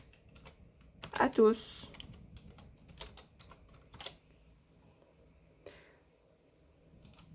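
Quick clusters of keystrokes on a computer keyboard as text is typed, clicking close by, with a voice speaking over the tapping.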